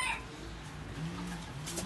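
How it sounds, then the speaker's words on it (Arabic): Chickens clucking in a coop, faint soft clucks and a few brief higher calls scattered over quiet background hum. "هذا الديتو دجاج هنا"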